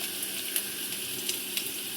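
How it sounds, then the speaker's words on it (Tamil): Curry leaves frying in hot oil with garlic, a steady bright sizzle with a few sharp crackles and pops, close and loud throughout. "கருவேப்பிலை சேர்த்துட்டு நல்லா வதக்கிடலாம்."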